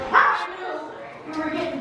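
A dog barks and yips at close range, a couple of sharp barks followed by whimpering sounds, with people talking over it indoors.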